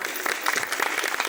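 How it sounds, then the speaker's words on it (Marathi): Audience applause at an outdoor Shivaji Jayanti celebration at Yashwantgad fort, Redi: a short, dense burst of crowd clapping, steady and fairly loud. "शिवप्रेमी जोरदार टाळ्या वाजवाव्या सर्वांनी"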